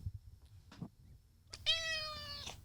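A cat meows once, a clear drawn-out call lasting about a second, preceded by faint rustling and small indoor noises in a quiet room.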